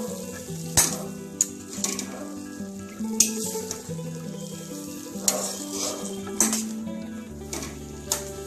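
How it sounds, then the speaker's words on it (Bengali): Vegetables for veg jalfrezi sizzling and frying in a pan while being stirred, with repeated sharp clanks of a spoon against the pan over a steady crackle. "এটাকে আমরা আবার নাড়িয়ে নেব।"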